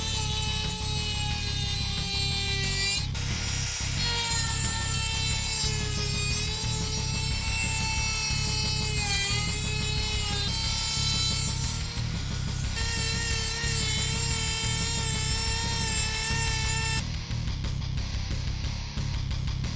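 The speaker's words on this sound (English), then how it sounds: "My tool of choice is going to be this Dremel." Dremel rotary tool cutting the channel of a ROCK-IT modular overland rack on a Jeep Gladiator: a loud, continuous high-pitched whine with shifting tone as it bites into metal, brief drops in pitch, no talking.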